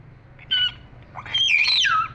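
A pet myna (beo) gives two bursts of calls, a short squawk then a longer whistling, warbling cry, close and fairly clear over a quiet background.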